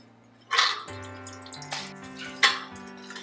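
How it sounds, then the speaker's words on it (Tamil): Water poured into an idli steamer pot in a home kitchen: a faint trickle with three short splashy bursts over a low steady hum, with no voices. "ஸோ தண்ணி இதில் விட்டாச்சு."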